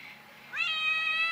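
A kitten lets out one thin, high-pitched meow, held and wavering, fairly quiet against a soft background hush.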